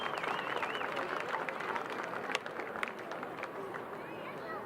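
A crowd at an all-star high school football classic breaks into applause and cheering for an honoree, a dense steady roar of clapping and voices with some sharp claps standing out, heard at a moderate distance.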